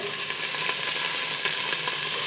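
Beef short ribs sear in a pan in their own rendered fat, giving an even, loud sizzle with a crackling texture throughout and no speech.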